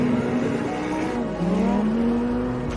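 Lamborghini Huracán Sterrato with a naturally aspirated V10 revving steadily and loudly, pitch climbing and dipping as the engine works through acceleration, close and continuous throughout.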